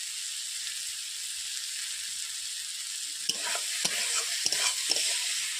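Salted fish frying in spicy masala as the oil separates gives a soft steady sizzle. In the second half come several sharp scraping stirs against the pan, and no one speaks.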